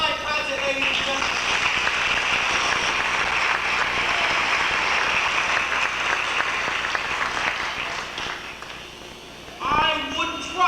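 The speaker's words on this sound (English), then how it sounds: "I would trust that the moderation of your applause merely means that you're conserving your energies for the final curtain" Theatre audience applauding at the closing-night performance of the stage musical Drood, a dense, steady wash of clapping that lasts almost the whole stretch before thinning out near the end.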